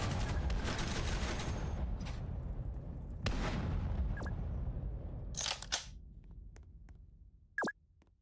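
Gunfire in the combat video game Noobs In Combat: Cold Front, heard as a few loud bursts of shots near the start and in the middle. Sharp, isolated pops follow and fade toward the end.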